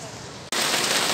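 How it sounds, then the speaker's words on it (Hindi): Heavy rain pours down outdoors in a muddy spot, a dense steady hiss that drops out for an instant and then returns louder and fuller. "इतनी ज़बरदस्त बारिश हो रही है"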